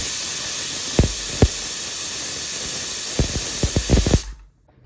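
A pressure cooker hisses steadily as it whistles while cooking peas with water, several short knocks breaking the loud spray of steam before it cuts off abruptly near the end.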